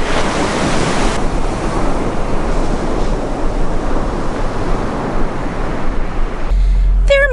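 Ocean surf washing in at the shore around someone wading, a loud steady rush of breaking waves and splashes with heavy wind buffeting the microphone, ending in a brief muffled rumble.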